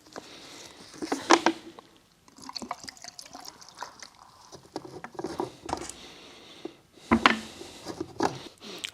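Water splashes and patters irregularly while a black-and-white film developing reel is rinsed, with close, uneven bursts of dripping and sloshing.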